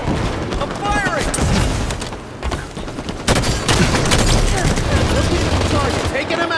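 Dense, heavy gunfire and explosions rumble through a Halo 5 Warzone battle on the March on Stormbreak map, loud and close, with a voice shouting over the continuous barrage.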